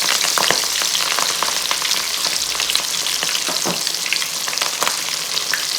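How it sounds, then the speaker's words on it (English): Folded potato tacos sizzle in hot oil, a dense, loud, continuous frying crackle close by, dotted with small pops and splatters and no voices. "I'm just gonna fold it in half and drop it in the oil"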